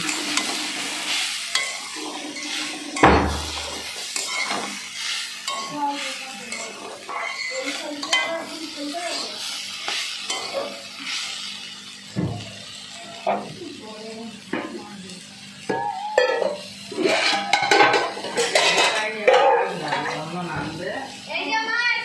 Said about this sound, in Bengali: আমি দিয়ে ভালো করে নেড়ে নিচ্ছি